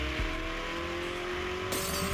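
A car's engine is floored and pulls hard, a steady droning motor tone that holds fairly even, with a short rise in roar near the end. It is heard alone and rather faint.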